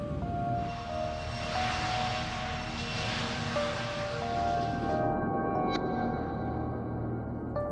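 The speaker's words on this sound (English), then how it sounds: "British Airways Flight 5390 is leaving Birmingham, England for Spain." A British Airways airliner roars down the runway on takeoff from Birmingham, England, in a dramatized scene, a loud steady engine rush with a high whine that cuts off near the end.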